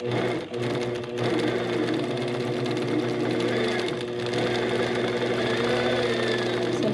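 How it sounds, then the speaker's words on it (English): Sewing machine stitching steadily with a couching foot, a continuous close mechanical whir and rapid needle chatter with one brief stop near the start. "Next, I can begin stitching."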